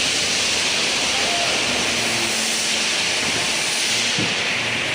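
A mix of water and engine oil drains into a jug, a loud, constant rushing hiss that fills the whole stretch without letting up.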